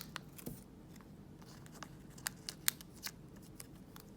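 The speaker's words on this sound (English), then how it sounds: "Slide the card into a team bag, seal it" A Pokemon card slid into a plastic team bag that is then sealed, giving faint soft rustles and a few sharp crinkly plastic clicks, handled close up at low level with no talking.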